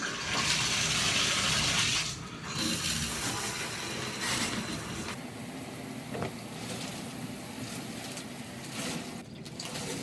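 Shower water runs steadily as a broadband hiss with small splashing shifts, fairly close and loud, with no voices over it.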